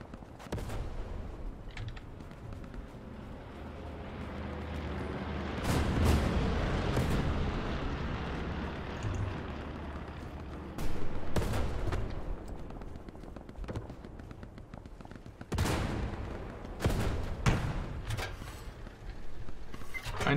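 Gunfire from a Hell Let Loose clan battle: repeated heavy gunshots and booming blasts, some close and loud, others more distant, fall irregularly over a low rumbling battlefield bed, without speech.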